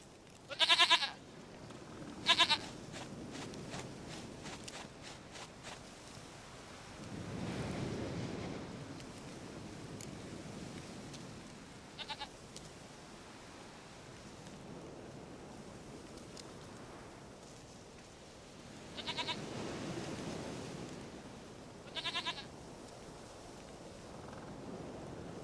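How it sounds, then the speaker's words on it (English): Goat bleating in The Witcher 3, a few short bleats near the start and more around the twenty-second mark, fairly faint over a soft ambient bed with low swells, no speech. "Goat of mine, dearest, sweetest goat."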